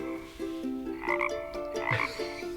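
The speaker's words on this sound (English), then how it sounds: "Yeah, a frog, that's right." A frog croaking in a short series of close, clear, throaty calls repeated in quick succession, with no talking over it.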